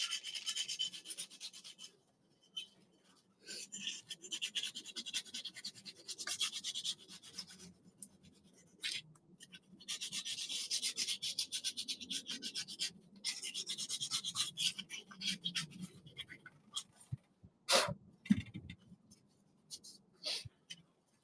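Abrasive rubbing and scraping in uneven strokes as a cut-up sanding belt works a concrete sculpture, close by, stopping and starting irregularly, with a few sharper scratches toward the end.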